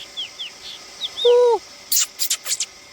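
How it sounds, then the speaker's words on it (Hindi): A bhujeta bird perched ahead in a village field calls in the early morning: a few thin chirps, then a louder two-part whistle, followed by quick sharp bursts, close and clear over quiet surroundings. "ये भुजेटा वाला पक्षी है और ये बोल रहा है।"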